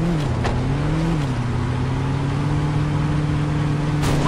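A car in the video game Saints Row drives steadily with a constant engine drone that rises slightly in pitch early on, loud and close throughout.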